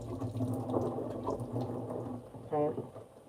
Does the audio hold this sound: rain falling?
no